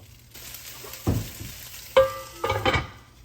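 Onion whites and then tomatoes go into a hot pan, each addition setting off a sudden sizzling burst with some scraping and clatter, then fading to a low steady fry.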